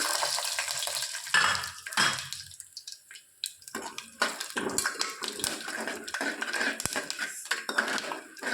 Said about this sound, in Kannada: ಚಟಪಟ ಅಂದ್ರೆ ಈಗ ಸಾಸಿವೆ ಜೀರಿಗೆ ಚಟಪಟ ಅನ್ನಕತ್ತಾವ್ರಿ